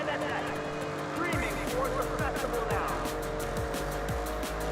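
Car tires squeal as the car drifts in the Forza Horizon 6 racing game, set in Tokyo: a loud engine drone with rising and falling screeches laid over it, and a player talking over the top.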